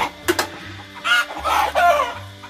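Chickens cluck repeatedly at a farmyard mealtime, several close, loud bursts with one drawn-out crow-like call, a low steady hum underneath and no talk.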